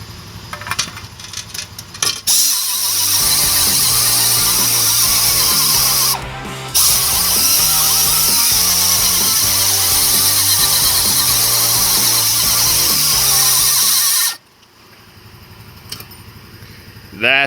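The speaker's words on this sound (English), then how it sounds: "The compressor's running in the background." An air compressor drones steadily and loudly for about twelve seconds in a workshop during a Suzuki Vinson ATV exhaust restoration, cutting out briefly midway before stopping abruptly, with quieter room sound on either side.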